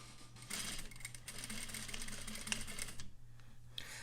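A sewing machine stitching straight across fabric pleats gives a steady, close mechanical whir with a fast needle rhythm that runs almost without a break, dipping briefly near the end before starting again.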